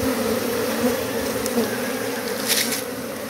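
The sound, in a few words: swarm of bees buzzing on tree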